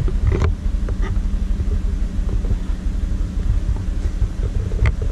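A 1990 Nissan 300ZX sits already warmed up and idling, giving a loud, close, steady low rumble with a few light creaks and knocks over it and no talking.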